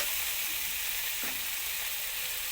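Chunks of pumpkin and potato fry with yardlong beans, giving a dense, continuous sizzle close by. A single brief stir sounds partway through, with no talking.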